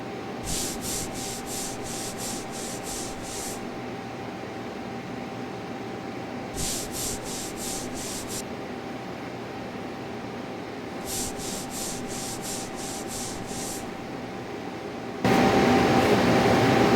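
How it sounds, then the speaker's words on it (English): Someone scrubs the gasket seat surface of an RIE chamber window in three bursts of quick rhythmic rubbing strokes over a steady machine hum, followed by a louder broadband noise at the end. "I'm gonna clean that out real quick, or at least the surface where the gasket sits"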